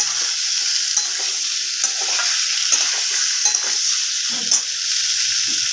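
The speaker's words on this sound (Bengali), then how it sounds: "এবার একটু ভেজে নেব" Jackfruit and potato fry in a pan with a loud, continuous close-up sizzle, broken by repeated stirring scrapes throughout.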